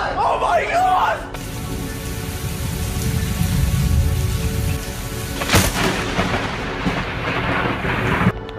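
Lightning strikes near a tree during a thunderstorm, with steady rain and rolling thunder, then a sharp, loud crack partway through followed by more rumbling; excited voices shout at the start.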